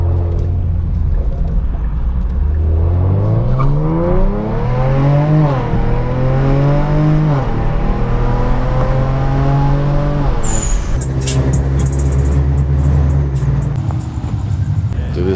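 Kia Stinger all-wheel drive accelerating hard, its engine note climbing loud and close through rising gear sweeps, with a brief pause at a shift before pulling on; a voice comes through near the end.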